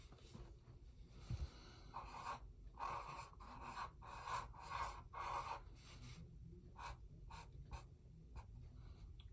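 Pencil scratching on paper while sketching small leaves on a tree branch of a tropical bird drawing, a run of short, close strokes with brief pauses, no talking.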